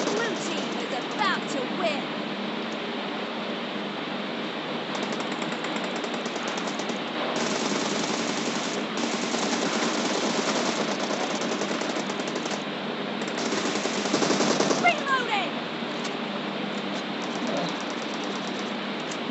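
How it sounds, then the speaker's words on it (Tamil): Automatic gunfire and shots in a PUBG arena match, sounding as dense, sustained bursts across the whole stretch with louder volleys midway and near the end, under a continuous layer of game audio and talk. "மறுபடியும் நம்மளை இன்னாடி அடிக்குதுப்பா ஸ்னைப்பர் வச்சுக்கிட்டு"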